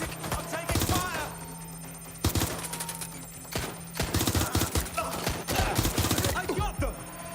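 Gunfire in Watch Dogs: Legion comes in rapid bursts of sharp shots, loud and close, with short pauses between volleys and a steady low hum underneath, while a voice is heard.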